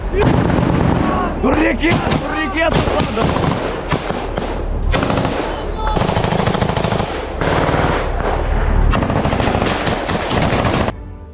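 Heavy gunfire and explosions on a Ukraine war front as assault and mechanized battalion troops advance, loud bursts of machine-gun fire and booming blasts rolling almost without pause, with voices shouting in between.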